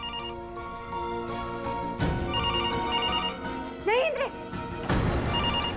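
Telephone ringing in a tense indoor drama scene, the repeated electronic ring tone continuing throughout while people speak over it urgently.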